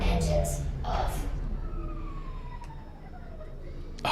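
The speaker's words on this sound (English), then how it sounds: "Oh, I love the engine noises." Spaceship engines in the Star Citizen video game wind down with a long, smoothly falling whine under a low rumble, after a few short voice-like bursts at the start.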